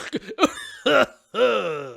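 A person coughs and clears their throat several times in short, raspy bursts, ending with a longer groaning exhale, close to the listener.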